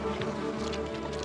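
Bees swarm near a honey badger searching for honey in the wild, producing a continuous dense buzzing drone, close and fairly loud, with no other sounds.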